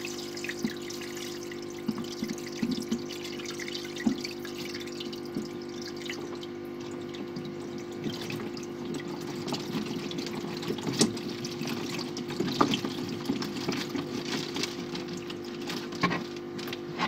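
Water poured steadily into a planted nano aquarium and slowed by a hand to protect the plants, a continuous soft trickling and splashing with occasional drips and no talking.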